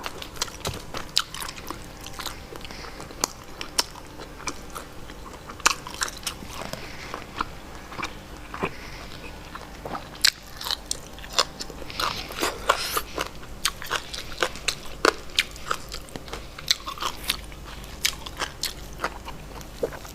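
Close ASMR eating of jaew bong, a Thai fermented fish relish, with shredded fermented fish: repeated crunchy bites and wet chewing in steady bursts, with no talking.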